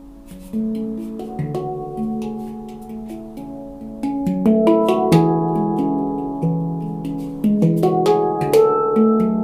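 A melodic instrument plays a sequence of stepped notes that starts soft and grows steadily louder as the line moves upward, with no talking.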